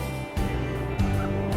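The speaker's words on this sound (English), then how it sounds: "She's one of our bantam chickens." Bantam chickens clucking on an urban homestead, a few short close calls in quick succession.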